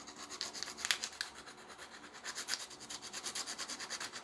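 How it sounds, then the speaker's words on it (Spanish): Sandpaper rubs a coating off an antenna part for a coaxial cable connection, in quick rhythmic back-and-forth scratching strokes. The sound is faint and close, with no talk. "aquí es importante que utilicemos un poco de lija y le quitemos un poquito de la capa"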